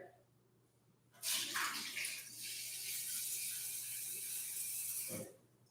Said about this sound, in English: Rinsing the rice. It's still super murky. Okay. I will drain this and then do it again.